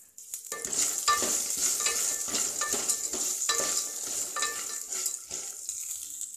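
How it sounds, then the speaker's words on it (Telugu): Vegetables such as beans, potato and cauliflower fry in hot oil in a pan, with a loud, continuous sizzle close up and frequent clinks and scrapes from a stirring spoon. No one speaks. "ఆయిల్లో వేస్తే మనకి మగ్గుతాయి"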